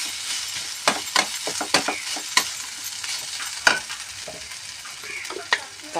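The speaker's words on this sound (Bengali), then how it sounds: "এটা দিয়ে একটু ভালো করে আমি নেড়ে নেব।" Chopped onion, green chili, ginger and garlic are stirred in a hot pan, sizzling steadily under a series of sharp spoon scrapes and clinks, close and alone with no talking.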